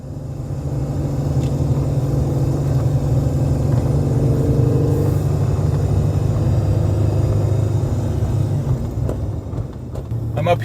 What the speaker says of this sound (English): I'm driving the Jeep